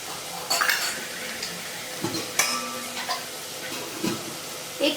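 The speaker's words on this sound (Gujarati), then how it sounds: "આ બધા જ મસાલા ઉમેરી દેવાના અને હલાવી લેવાનું. 1 મિનિટ સુધી હલાવશું આપણે." Ground spices and dhania-jeera powder being stirred in a pan for a sabji gravy, with a spoon scraping and clinking against the metal in irregular strokes over a soft background sizzle, close and moderately loud, no talking.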